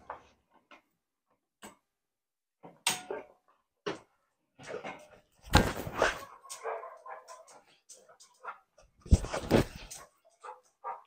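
During an over-arousal training session, a dog lets out short scattered whimpers and a couple of louder bark-like bursts between quieter sounds, while a trainer's voice comes and goes.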